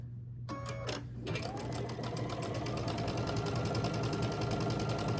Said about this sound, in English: I'll put these, just like we did in the past, right sides together, stitch down this line.